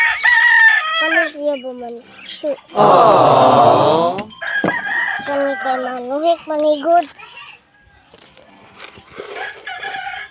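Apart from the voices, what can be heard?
rooster crowing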